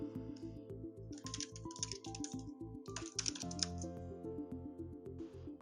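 Fingers type text on a computer keyboard, a quiet, steady rapid patter of key clicks with brief pauses, heard close with no voices.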